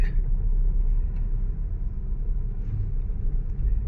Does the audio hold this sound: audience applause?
no